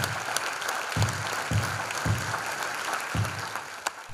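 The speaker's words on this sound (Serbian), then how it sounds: "Završilo se gromoglasnim aplauzom" Theatre audience at a play premiere by the Pirot National Theatre ensemble applauding after the performance, a dense steady wash of clapping with a few louder low thumps recurring about every half second.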